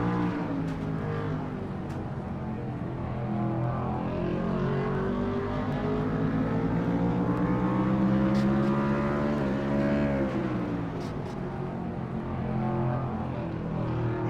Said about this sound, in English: Heard him shift at the third gear right there, coming off at the end of the straightaway.